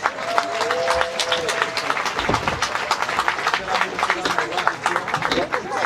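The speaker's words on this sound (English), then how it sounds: "Once again, the Japanese national team is given a round of applause" A crowd at a Mexico versus Japan junior national team game applauds the Japanese team, with sharp scattered claps running throughout while a public-address announcer talks over them.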